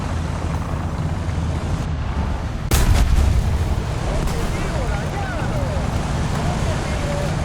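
Tank in a combat video game, with a heavy, sudden cannon-like boom amid continuous low engine rumble and battlefield noise, loud and close.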